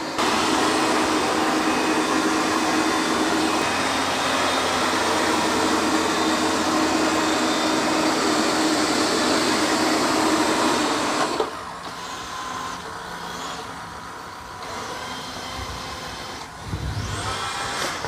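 A robot vacuum cleaner running over a floor with muddy paw prints gives a loud, steady whirring drone that suddenly cuts to a quieter hum as the suction switches off, followed by soft mopping noises.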